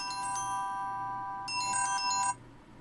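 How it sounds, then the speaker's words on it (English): Alarm clock goes off indoors with a repeating electronic ringtone pattern of bright tonal beeps, in two short bursts, moderately loud and alone. "sorry, that was my alarm clock to wake up from a nap."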